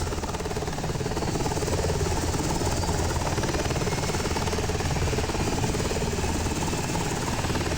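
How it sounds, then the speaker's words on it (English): H-60 helicopter in Flight Simulator 2020 with its engines running, a loud, steady turbine whine layered over a dense rotor and engine rumble, unchanging and continuous with no voices. "The other engine starts, so you only have to need to start one engine and then simply wait, and then it will start the other one"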